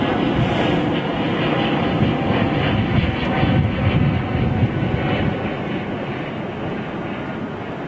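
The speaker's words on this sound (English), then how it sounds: "Listen to those XWBs" Airbus A350 XWB jet engines roaring at London Heathrow Airport, a loud, steady broadband rumble that stays strong throughout and eases only slightly toward the end.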